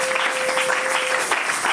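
A church congregation applauding to praise the Lord, steady dense clapping from many hands filling the room, with a sustained tone held beneath for most of the burst.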